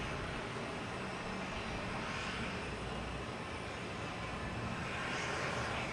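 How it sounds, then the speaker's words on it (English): A JetBlue Airbus A321 lands at Boston Logan Airport, its jet roar a broad, steady rush that fills the whole stretch, loud and continuous with no voices. "JetBlue just landed in A321"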